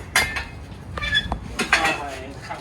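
Metal cooking pots and utensils clank and clink close by as they are rummaged through and handled in a garage during a car restoration, giving a string of sharp irregular knocks over a low background hum.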